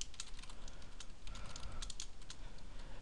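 Code being typed on a computer keyboard, a quick irregular patter of light key clicks up close, fairly quiet and continuous with no voices.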